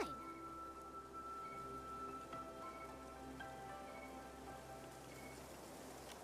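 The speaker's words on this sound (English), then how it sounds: "This cursed rain." Steady rain falls in a video game scene, a soft continuous patter with faint tonal game music lingering underneath, quiet and even throughout with no voices.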